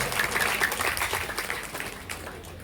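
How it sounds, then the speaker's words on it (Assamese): An audience applauds at an honouring ceremony for a senior performer. The clapping is a dense, steady burst that fades slightly toward the end, with no one speaking over it. "এটি হাত চাপৰি হ'ব লাগে"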